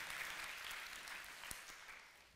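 A youth group congregation at a church service applauds a ski team with a soft, continuous patter of clapping that slowly fades, heard from a distance and alone.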